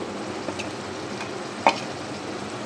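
Chili powder goes into a hot pan for Bengali omelet curry, bringing a soft continuous sizzle with a couple of faint stirring taps and one brief sharper clink.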